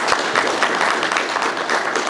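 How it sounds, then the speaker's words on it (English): Applause from an audience at a public safety meeting inside a government building, steady dense clapping filling the whole stretch at moderate loudness with no voices over it. "I'm not used to getting applauded in our own building here"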